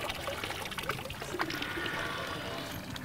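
Water pours from a windmill pump in a steady, noisy, continuous rush and splash outdoors, with a faint voice in the background.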